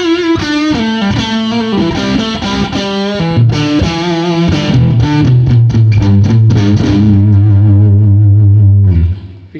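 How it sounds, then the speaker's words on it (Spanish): Electric guitar played through a modded Boss Blues Driver BD-2 overdrive pedal set near three-quarters gain with volume about halfway, loud and continuous with sustained distorted chords and single-note runs, a low held note ringing out before stopping. "Ahora el pedal lo tenemos en 3 cuartos de distorsión y el volumen más o menos en la mitad."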